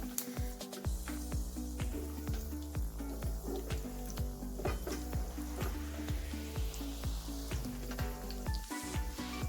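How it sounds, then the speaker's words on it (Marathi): Homemade cheesy balls deep-fry in oil over low heat, a continuous close sizzle with dense bubbling crackle and repeated soft stirring scrapes throughout. "सोनेरी रंग येईपर्यंत तळून घ्यायचे आपल्याला"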